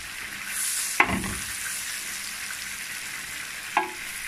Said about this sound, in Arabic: شوح البصل اهوت يا حبيبي